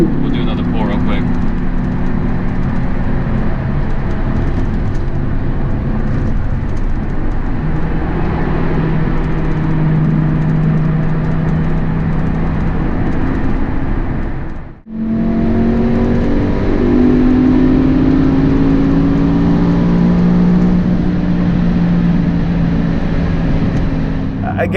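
Lamborghini Huracan Performante V10 pulling hard through high revs, a loud sustained engine note with rising harmonics, briefly cut by a gap before climbing again; speech is detected but no words are heard.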